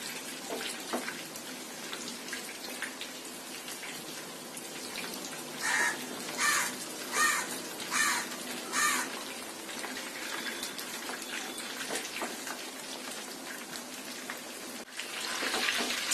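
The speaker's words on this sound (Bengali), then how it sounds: "বাদামি কালার করে ভেজে নিতে হবে।" Chicken and paneer snack pieces frying in hot oil until brown, giving a steady close crackling sizzle with a run of louder rhythmic pulses partway through.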